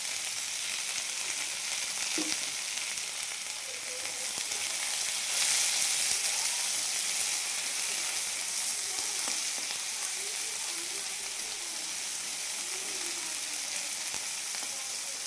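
Chopped onion, tomato and capsicum fry in hot oil for a paneer dish, giving a continuous, even, hissing sizzle close by with occasional faint crackles.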